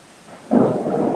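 Thunder rumbles and swells abruptly over falling rain during an outdoor live election-results show in Maverick County, a loud, sustained roll with no talking.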